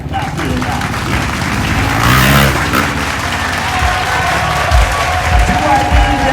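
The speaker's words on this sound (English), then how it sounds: "Do I need to ask you to make some applause for that?" Loud, sustained applause and cheering from a crowd at a motocross show in the Monster Energy compound at the Calgary Stampede, a dense, steady wash of clapping that swells briefly midway.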